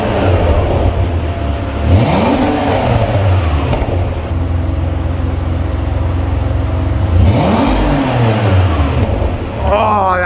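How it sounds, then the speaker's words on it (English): A front-engined Ferrari 612 Scaglietti GT with a 533-horsepower, 48-valve V12 revs loudly and close by, the note rising and falling in two sharp sweeps over a steady throbbing idle. "So 533 proper horsepower from 12 Italian cylinders and 48 valves"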